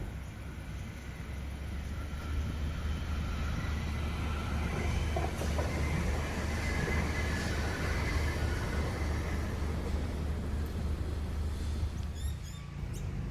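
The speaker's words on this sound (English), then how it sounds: "we also spotted another tram heading southbound." Parramatta light rail tram on a test run, a steady low rumble and rolling hum passing nearby for several seconds, with no voices.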